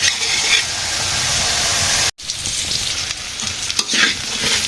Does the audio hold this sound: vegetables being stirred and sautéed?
yes